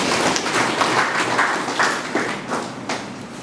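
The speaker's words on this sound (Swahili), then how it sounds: "Tumpongeze mkurugenzi, tumpigie makofi." A crowd applauds a district director at a public meeting with steady, moderately loud clapping that rises and falls in waves over a few seconds, with no one talking over it.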